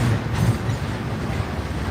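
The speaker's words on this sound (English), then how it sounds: "watch these last two engines, these last two locomotives coming up" CSX freight train locomotives rolling past on the Chattanooga Sub at Cowan, Tennessee, a dense continuous rumble of wheels and engines, close and steady throughout.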